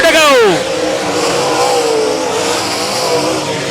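Race cars roaring around an oval track at Super Bowl Speedway, with a loud pass-by sweep at the start followed by a sustained wash of engine noise from the field further off, under an announcer's voice.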